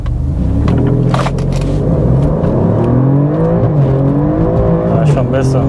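A sports car accelerates hard in a drag race between an Alfa Romeo Giulia Quadrifoglio and a BMW M3 Competition, its loud engine drone climbing in pitch and dropping at gear changes over a heavy rumble.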